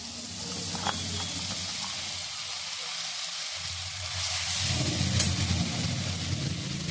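Ground spice paste fries in a pan for paneer masala, giving a steady close hiss and sizzle that grows louder and fuller toward the end, with no talking.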